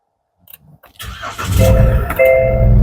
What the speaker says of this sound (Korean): 시동 바로 걸어볼게요